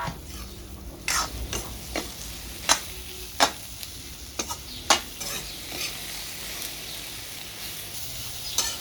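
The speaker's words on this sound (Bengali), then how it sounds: "সব কিছু ভাজা ভাজা হয়ে গেল" Dried mango and dried loitta fish fry in a pan with a steady sizzle, while a spatula scrapes and stirs in irregular sharp clacks, loud and close.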